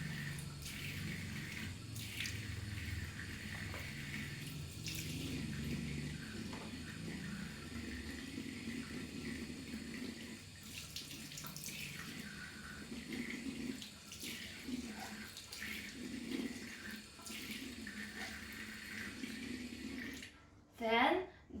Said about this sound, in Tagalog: wash perineal area thoroughly with soap and water as needed